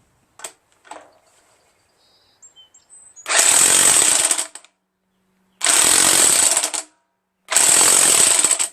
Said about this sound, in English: Gonna get my electric impact, 1/2 inch.